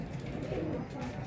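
Pigeons coo softly in a rooftop loft while someone speaks over them, their low burbling calls faint beneath his voice.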